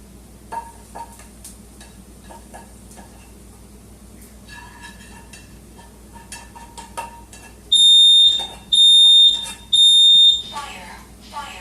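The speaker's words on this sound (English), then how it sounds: "yes, that's the smoke detector off." A smoke alarm blares three loud, piercing beeps near the end, after a stretch of quiet kitchen clatter and faint background hum.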